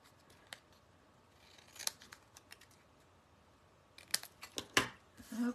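Scissors snip through pink paper in a few short, crisp bursts separated by quiet pauses, close and fairly faint, with no talking.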